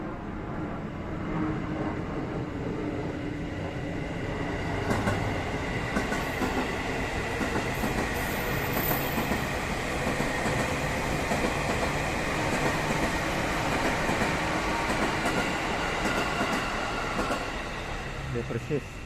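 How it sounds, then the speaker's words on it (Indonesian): A train rumbles past at Kranji station, a loud, steady roar with rattling and clacking that holds throughout, close by, with people talking over it. "Ini keretanya."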